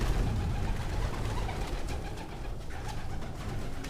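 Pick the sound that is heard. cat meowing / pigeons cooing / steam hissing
pigeons cooing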